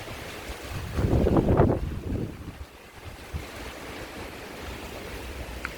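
Wind blows through a garden in rough, blustery gusts, with one strong surge that rises and fades before settling into a lower, steady rush against the microphone; no speech.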